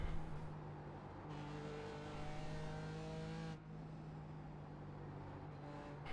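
An overheating BMW car engine in a driving video game hums at a steady idle with sustained tonal drone and small pitch shifts, faint and continuous with no talk.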